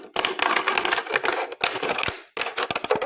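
Cutting through material to shape a homemade plant pot, producing loud, close crunching and snapping bursts in three runs separated by brief pauses, with no talking.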